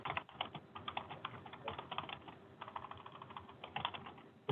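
Keys clatter in irregular bursts of quick taps on a computer keyboard, picked up by an open microphone during a city council meeting held online; a steady low hum sits underneath and no one speaks.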